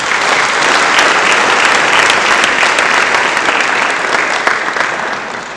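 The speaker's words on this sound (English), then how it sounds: "Let's give the class of 2024 a round of applause." An audience at the Nkangala District Municipality mayoral academic awards ceremony applauds the class of 2024, a loud, dense, sustained round of clapping that fills the hall and eases slightly near the end.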